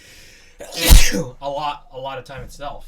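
A single sharp, loud sneeze bursts out close by in a casual roommates' session, cutting into ongoing talk. Conversation resumes immediately afterward.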